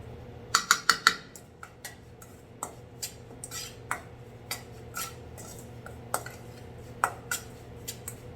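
Perilla leaf kimchi seasoning made with fish sauce and chili powder is tossed in a bowl, giving sparse, irregular clinks and taps against the dish at moderate loudness with soft rustling between, no voices.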